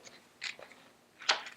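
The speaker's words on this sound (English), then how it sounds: "Just take little bites with your scissors." Two quiet, crisp snips of scissors cutting paper, spaced about a second apart in a hushed room.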